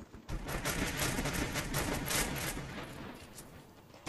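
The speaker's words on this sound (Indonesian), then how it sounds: "Lihat tuh, nembak yang gak becus" Sustained automatic gunfire from the video game Free Fire, a dense, unbroken rattle of shots that stays loud for about four seconds with no voices.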